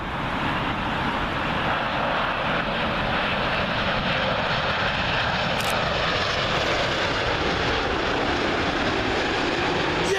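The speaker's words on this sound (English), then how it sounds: "Next up, United 787 Dreamliner. This one from LAX." A United Boeing 787 Dreamliner arriving at Heathrow runway 27L from LAX, a loud continuous jet roar overhead that holds steady throughout with no voices.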